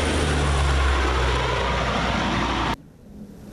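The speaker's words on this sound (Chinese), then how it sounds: "B3C 反潜机划破天际，揭开汉光演习序幕" A P-3C anti-submarine patrol aircraft passes overhead during Han Kuang military exercises in eastern Taiwan, a loud, steady propeller and engine roar that cuts off abruptly near the end.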